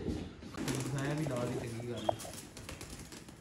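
Cheena pigeons at a Lahore pigeon setup, soft low cooing calls, close by and fairly quiet, with a faint rustle of movement around them.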